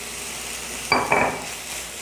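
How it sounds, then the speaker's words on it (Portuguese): Seasonings and chopped tomato being stirred in a hot pan, a short burst of sizzling with a brief metallic scrape of the utensil in the middle, close, against a low steady hiss. "Vou misturar bem aqui esses temperos. E já vou acrescentar 1 tomate picado."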